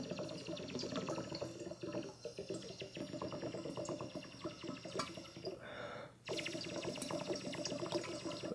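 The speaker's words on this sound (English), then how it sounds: "with each breath, the bubbles going in pushes water out." Air is blown in steady breaths into an upturned glass full of water, giving continuous close bubbling and gurgling that runs almost without a break, with one short pause near the end before the bubbling picks up again.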